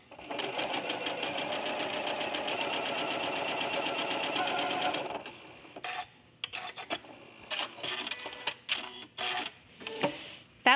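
Sewing machine stitching a line through quilt fabric with the presser foot pressure lowered, a steady, close mechanical whirr for about five seconds, then stopping and giving way to small clicks and handling noises.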